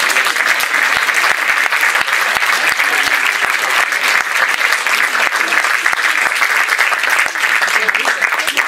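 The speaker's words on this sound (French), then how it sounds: "s'il vous plaît, un tsunami d'applaudissements pour Nathalie Gouzet" Sustained, dense applause from a theatre audience at the Théâtre de la Main d'Or in Paris, loud and steady for the whole stretch, with no talk over it.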